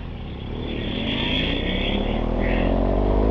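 A BMW F 850 GS or R 1200 GS Adventure motorcycle engine drones steadily and grows slightly louder, a continuous close rumble with no voices.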